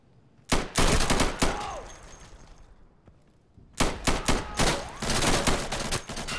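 Gunfire in the co-op shooter game Insurgency: two dense bursts of rapid, loud shots close by, the first brief and the second sustained, separated by a quieter lull with faint echoes.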